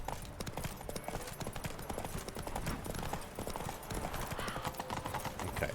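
A horse gallops in The Witcher 3, its quick rhythmic hoofbeats drumming steadily at full speed, moderately loud and close throughout.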